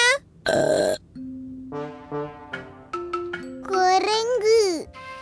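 Cartoon burp in a children's animated show, a loud burst followed by a drawn-out, wobbling burp and short grunts, with childlike voices chattering around it.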